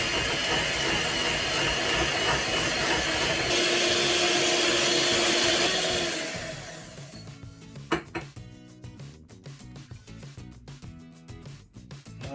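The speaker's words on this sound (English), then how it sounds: "this is going to whisk up to ribbon stage" Electric whisk beating an ice cream mixture of eggs and caster sugar to ribbon stage, a loud steady whirring drone that stops partway through, followed by clinks and scraping of the bowl.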